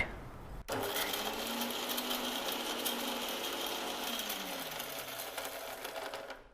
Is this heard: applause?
no